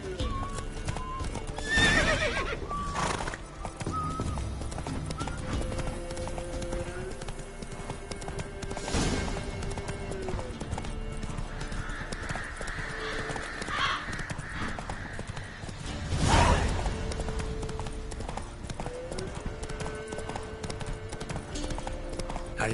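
Roach the horse in The Witcher 3 video game gives several loud whinnies while hooves clip-clop steadily beneath, set against a continuous game soundscape with music and ambient noise.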